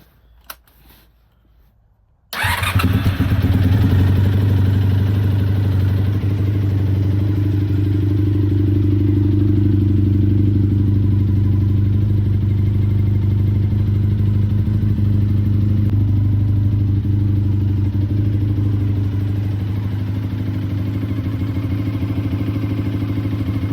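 A motorcycle engine idles after an engine flush, starting abruptly after a short quiet moment and then running on as a steady, loud, close rumble with no talking.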